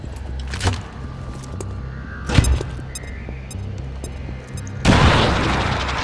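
Grenade explosion in the video game XCOM 2, a loud broad boom near the end that follows a few smaller thuds and hums, then trails off in a rumbling decay.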